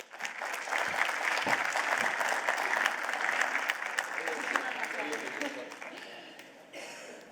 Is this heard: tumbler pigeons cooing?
no